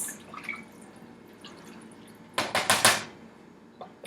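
Grain and water stirred in a cooking pot for kitchari, a few quick sloshing, clattering strokes bunched together, with faint drips and clinks before and after.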